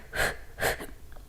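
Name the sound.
exhaling forcefully through the mouth during yoga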